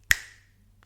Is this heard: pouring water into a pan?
no